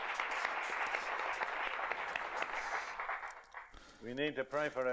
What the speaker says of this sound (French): Je crois que nous pouvons l'applaudir.